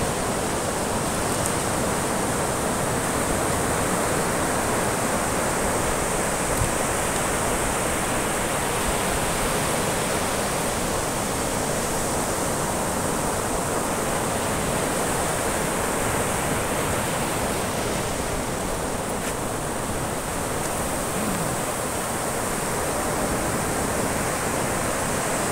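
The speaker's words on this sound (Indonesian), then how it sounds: "dengar suaranya tuh. Laut saja bernyanyi guys, suara laut bernyanyi guys." Sea waves rolling in at a secluded beach, a continuous loud wash of surf and hiss filling the whole stretch without pause, heard close with no voices over it.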